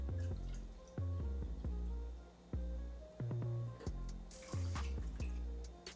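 Water poured from a cup into a cooking pot holding shrimp set up for steaming, heard up close as a run of separate splashy drips and plinks with short gaps between them, and no talking.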